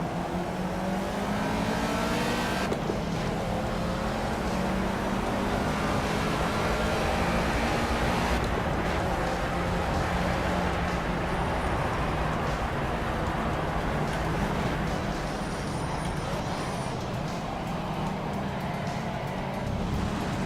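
Ford Escort race car engines in the Project CARS racing game at Hockenheim, several cars droning and revving continuously with rising and falling pitch as they race close together, no talk.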